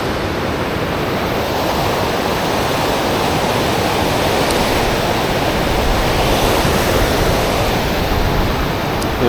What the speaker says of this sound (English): this wind is really making it tough